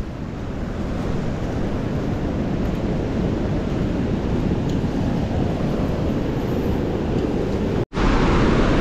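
A swollen river rushes in a steady, loud broadband roar that runs continuously, close and unbroken apart from one brief dropout near the end.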